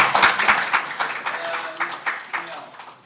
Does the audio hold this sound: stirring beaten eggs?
no